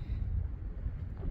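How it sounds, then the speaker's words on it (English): Outdoor wind buffeting a microphone, a dense low rumble with gusty fluctuations filling the whole short stretch, loud and alone. "Darn wind."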